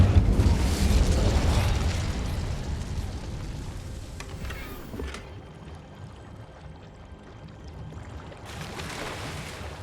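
A fire spell cast in Hogwarts Legacy bursts out as a loud rushing whoosh of flame, fading into a lower crackling rumble and then a softer magical swell.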